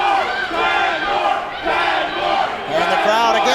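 A packed wrestling crowd at the London Music Hall erupting after a body slam, loud sustained roaring and yelling that surges, dips briefly, then swells again.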